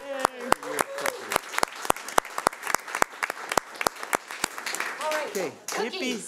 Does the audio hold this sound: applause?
yes